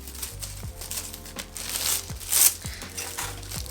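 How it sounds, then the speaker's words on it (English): Plastic and paper packaging of a Tati Beauty eyeshadow palette crinkles and rustles close up as it is unwrapped by hand, with irregular crackly bursts and a louder crunch near the middle. "now we're gonna unwrap it"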